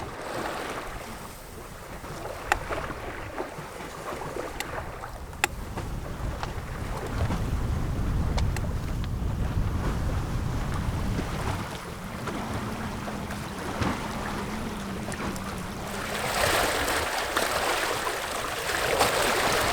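Steady wind buffets the microphone aboard a small sailboat moving at about 4.5 knots, with water rushing along the hull and occasional knocks and creaks, loud and continuous throughout.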